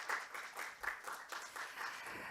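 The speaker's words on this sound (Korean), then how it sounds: "오늘 연사자분들께 큰 박수 부탁드리겠습니다" A forum audience claps for the speakers in a short, fairly faint burst of applause with an uneven rhythm that lasts a couple of seconds.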